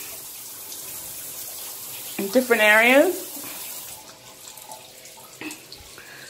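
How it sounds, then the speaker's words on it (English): A shower runs in a resort bathroom with a steady, even rush of water that fades after a few seconds, while a person speaks briefly over it. "here's the shower going"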